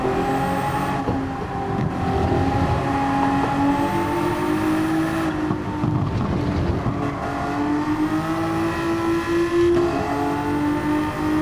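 A Gran Turismo 7 race car engine holds a steady high drone, rising and falling in pitch through gear changes and throttle lifts, loud and unbroken with no talk.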